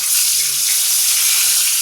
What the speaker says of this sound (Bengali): মাছ ভাজছি আর মাছের ঝালে দিচ্ছি।